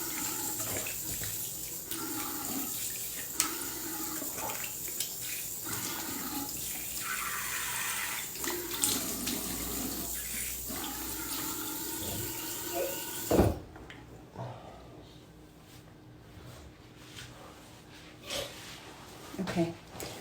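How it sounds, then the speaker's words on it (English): Tap water runs steadily into a sink while a face mask is rinsed off during a men's skincare treatment, then stops partway through, leaving faint rustling, with soft talk underneath. "So you can rinse off your mask."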